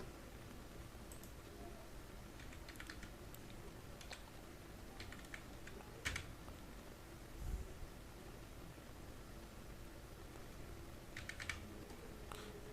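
Numbers being entered on a computer keyboard, faint clicking keystrokes in short bursts with pauses, soft and close against a low background hiss.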